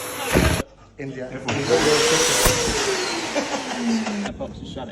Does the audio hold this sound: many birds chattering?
no